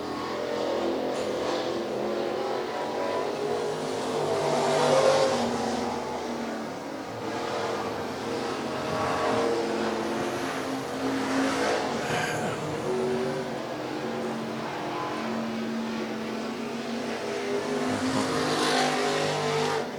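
IMCA stock cars race at USA Raceway, their engines droning steadily from a distance and swelling as the field sweeps through the turns, with a continuous roar and no talk.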